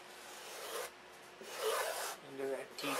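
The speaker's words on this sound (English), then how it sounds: "we're going to start planing it" A hand plane rasps along a wooden aircraft fuselage in repeated close strokes, each pass a dry scraping rub separated by brief pauses.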